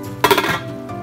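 A metal lid lifted off a pot of simmering chicken adobo, one bright clanking clink close up followed by a faint ringing and quiet cooking hiss.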